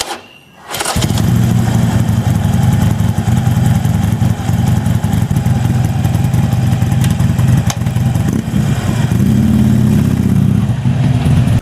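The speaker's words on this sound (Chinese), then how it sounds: "谢谢大家听一下布尔的声浪" A Buell V-twin motorcycle with its muffler removed idles and revs loudly and steadily up close after firing up, a deep, throbbing exhaust note that holds for roughly eleven seconds.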